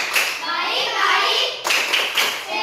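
Children in a classroom clap along in a rhythmic chant, sharp hand claps in quick patterned bursts with young voices mixed in, close and lively.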